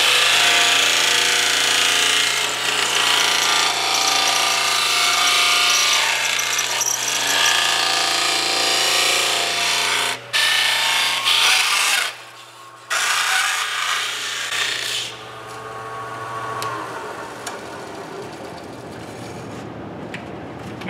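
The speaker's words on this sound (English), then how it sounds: "So let's sand up to my line with the disc sander." A disc sander grinds thermoformed plastic up to a marked line, a loud continuous abrasive whine with steady motor hum, briefly interrupted twice before the sanding trails off and the motor spins down.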